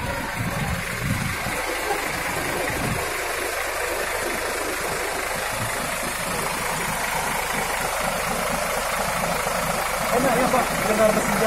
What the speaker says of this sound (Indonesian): Enak ya Pak, dengar mesinnya.